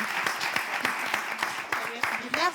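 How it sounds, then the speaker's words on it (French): A small audience at a live show gives scattered, uneven hand claps that stay fairly soft, with voices talking over the clapping. "applaudissez quand même"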